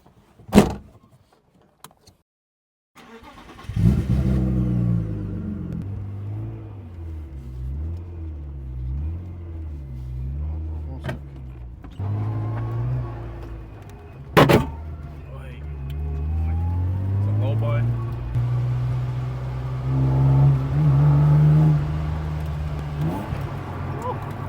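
A BMW E36 starts with a door clunk, then the engine idles and pulls away with rising and falling revs as it drives, with a few sharp knocks and a swelling engine note near the end, heard from inside the car.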